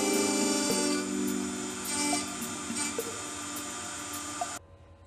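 A 3018 CNC router with a linear rail upgrade mills aluminum, its spindle holding a steady, piercing whine with gritty cutting chatter before the sound cuts off abruptly near the end.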